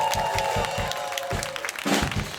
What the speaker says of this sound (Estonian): teeme ühe aplausi veel